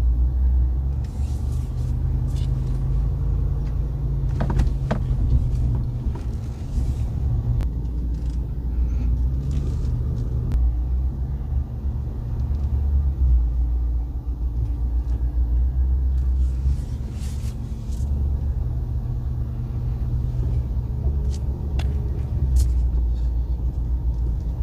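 Steady low engine rumble of a 2023 RAM Rebel HD pickup truck rolling slowly around a yard, continuous and close, with occasional faint clanks over the drone.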